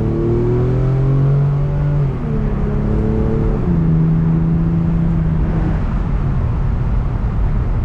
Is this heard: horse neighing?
no